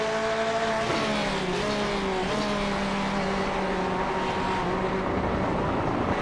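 Race cars in a sim racing event at Watkins Glen, engines droning and throttling up close with rising and falling whine, a Porsche among them, steady and loud with no talk.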